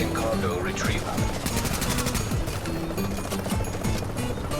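Rapid automatic gunfire in Tom Clancy's The Division, dense bursts of shots running continuously with a voice talking over them.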